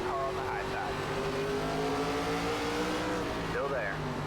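A race car passes in iRacing during a Legacy ARCA race at South Boston, engine drone rising and falling over steady car noise, with a voice talking over it.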